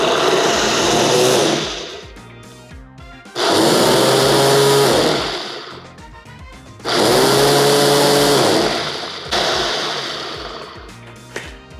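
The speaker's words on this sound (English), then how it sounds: "let's power it up. I put it on smoothie setting and I hit start." A Ninja blender runs on its smoothie setting, roaring loudly in three long bursts with short quieter pauses between, its motor pitch shifting as it chops and churns.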